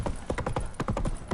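Hoofbeats of Roach, Geralt's horse in The Witcher 3, trot in a steady, close clip-clop rhythm of repeated thuds with no voices over them.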